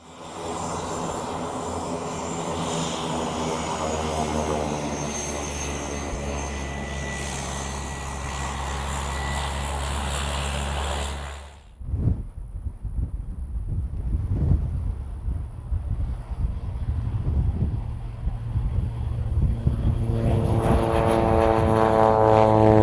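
A small propeller airplane, on a waterfowl survey flight over a wildlife refuge, drones loudly at first; then comes a sharp break, with wind buffeting the microphone before the engine drone rises again and builds toward the end.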